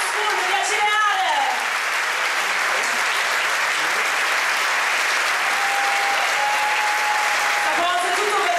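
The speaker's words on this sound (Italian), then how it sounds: "Un applauso è tutto per voi ragazzi" An audience at a drum event applauds loudly and continuously, a dense wash of clapping with a few cheers mixed in.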